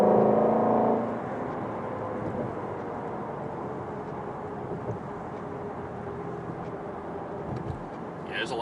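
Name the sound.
traffic on a road at night in the rain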